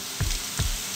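A frying mixture with butter, stirred constantly in a pan over a medium gas flame, with two soft scraping strokes over a low continuous sizzle.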